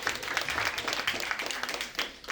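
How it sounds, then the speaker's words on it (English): An audience at a live podcast show in Atlanta claps in a brief, fairly faint burst of scattered applause, with some voices mixed in. "Round of applause, you remember that episode."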